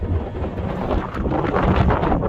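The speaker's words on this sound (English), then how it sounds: "All right, too windy." Strong wind near a dam in the Sierra Nevada mountains buffets the microphone in a steady, loud roar with heavy low rumble and gusty surges throughout.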